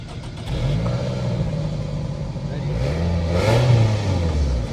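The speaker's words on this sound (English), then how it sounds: "Should we get a sound check on the exhaust?" Car exhaust revving in bursts, a loud, close engine rising and falling over several seconds with a steady low rumble underneath and no talking.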